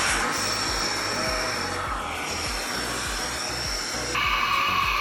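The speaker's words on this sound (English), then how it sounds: "this is my hair dryer" A handheld hair dryer runs continuously at close range, a steady loud whooshing hum with a slight change in pitch near the end.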